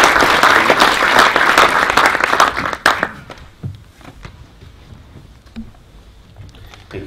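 Audience applause at a social investment awards event, dense and loud for about three seconds as the keynote speaker is welcomed, then thinning to scattered claps and fading away.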